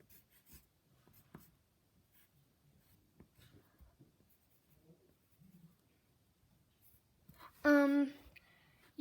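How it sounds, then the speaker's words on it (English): Pen scratching out a quick dragon sketch on paper, faint and close with soft intermittent strokes, followed near the end by a brief louder tonal sound. "if I just draw like a quick dragon sketch"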